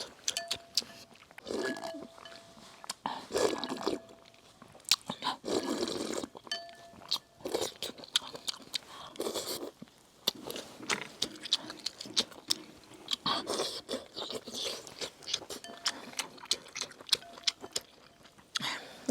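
Braised pork ribs and Jiangxi rice noodles being eaten up close, with wet chewing, slurping and crunchy bites coming in irregular bursts over nearly twenty seconds.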